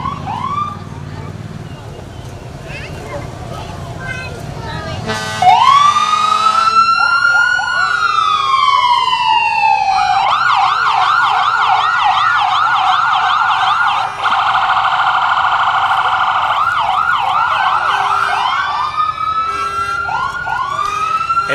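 A loud ambulance siren from New Richland wails during a small-town Farm and City Days parade, starting as a rising wail and then cycling through fast yelping sweeps, close and sustained, with crowd noise underneath.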